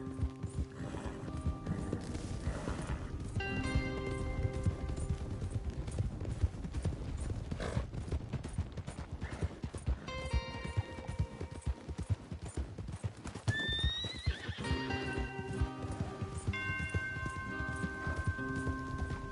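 Horses in the video game Red Dead Redemption 2 clip-clop in a steady galloping rhythm with several whinnies and neighs, over continuous game ambience and faint voices.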